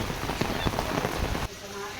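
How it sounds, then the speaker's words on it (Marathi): Heavy rain patters steadily on a hard surface, a dense close hiss with scattered louder drops, cutting off abruptly near the end. "मस्तपैकी पाऊस वाढला"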